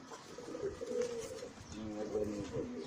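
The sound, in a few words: silver Pankhi pigeon chick cooing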